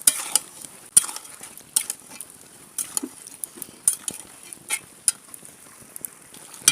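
Beef coated in ginger, garlic and cumin paste with turmeric and salt is stirred in a pan, a close, soft sizzle broken by sharp, irregular clinks of a utensil against the metal.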